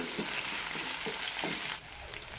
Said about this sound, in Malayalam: വെളുത്തുള്ളി ഇഞ്ചി പേസ്റ്റ് നന്നായി റോസ്റ്റായി കിട്ടണം